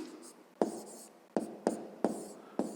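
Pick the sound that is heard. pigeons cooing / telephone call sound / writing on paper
writing on paper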